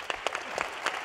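Audience applause at a White House heritage celebration, a steady wash of clapping with individual claps standing out, fairly faint and with no voices over it.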